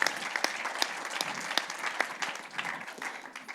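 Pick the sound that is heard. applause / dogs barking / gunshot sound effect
applause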